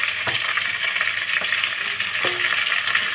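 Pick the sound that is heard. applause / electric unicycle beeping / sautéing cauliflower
sautéing cauliflower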